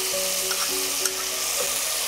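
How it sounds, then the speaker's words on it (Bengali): Spices sauté in a pan, giving a steady frying sizzle with occasional soft stirring scrapes and a faint tonal hum in the kitchen, moderately quiet and close. "দেখো, মশলাটা কষানো হয়ে গেছে।"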